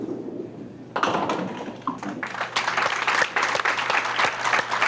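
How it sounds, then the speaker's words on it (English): A crowd at the Greenway Bowl duckpin bowling alley breaks into applause at a 1991 DPBA tour match, starting after a quiet moment and building into steady, dense clapping that carries on to the end, with a faint voice underneath. "Fans at the Greenway Bowl give him a big hand, too"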